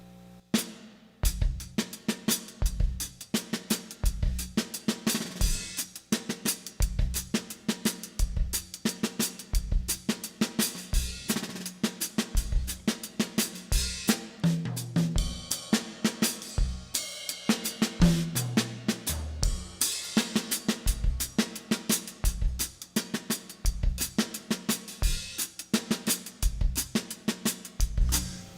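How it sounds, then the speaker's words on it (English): A steady Afrobeat drum pattern, with punchy kick hits on a regular pulse under busy hi-hat and snare strokes, played alone and close for the whole stretch without any talking. "The first pattern of Afrobeat goes like this."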